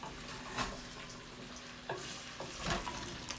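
Chopped onion fries quietly in a pan, a soft steady sizzle broken by a few light scraping and stirring bursts.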